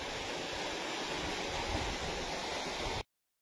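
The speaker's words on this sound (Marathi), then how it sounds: "इकोझोन कंपनीचा कशा पद्धतीने पाणी मारतोय 5 HP चा, आणि ते पण 80 फुटावरून पाणी मारतोय" Water gushing steadily from the outlet of an Ecozen 5 hp solar pump lifting from an 80-foot well on a farm, a dense continuous rush close by, alone, cutting off abruptly near the end.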